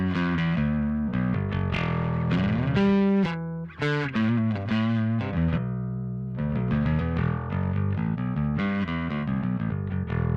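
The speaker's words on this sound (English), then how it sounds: "So it's putting out a lot of harmonics and a really well-textured, rich sound for the distortion" A heavily distorted Dingwall John Taylor Signature electric bass plays a riff of sustained and rapid notes, thick with buzzing harmonics, loud and up close without any voices.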